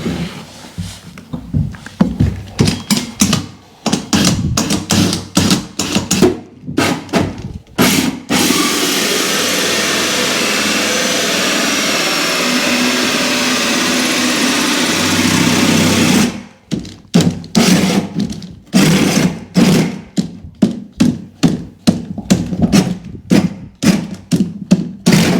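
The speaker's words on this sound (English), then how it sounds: "the hole has been drilled" A power drill bores through floor joists during a house rewire, with bursts of rapid thumping and knocking at the start and end and a long steady whirring drill run in the middle, loud and close, no talking.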